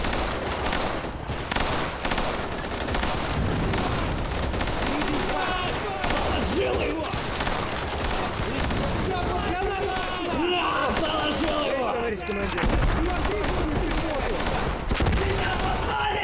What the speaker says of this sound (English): Oh my god, explosions.